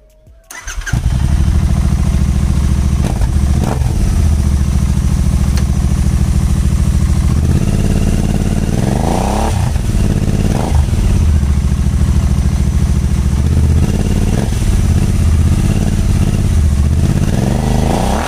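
A Royal Enfield Interceptor 650 fitted with an AEW TE 102 performance exhaust starts up, then runs loud and close with a deep, steady twin-cylinder idle broken by several throttle blips and revs.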